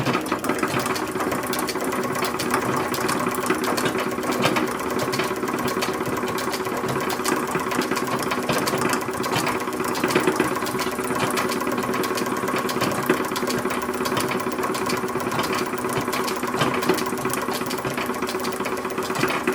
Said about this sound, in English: Because I am doing mine by machine, I am going to stitch one side by machine.